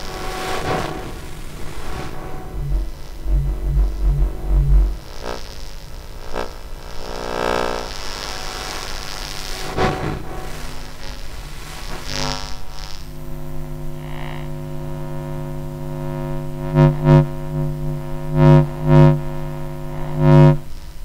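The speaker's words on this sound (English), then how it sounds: "There's some really nice sub-bass tones around the middle of the monitor here." A computer monitor's electromagnetic field is picked up as a buzzing electronic hum with stacked tones and a deep sub-bass layer. The tones shift partway through, and several louder throbbing pulses come near the end.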